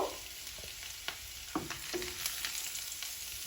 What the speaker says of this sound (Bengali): এর মধ্যে আমি পাঁচ ছয় কোয়া রসুন কুচি করে দিয়ে দিব রসুনটা হালকা করে একটু ভেজে নিব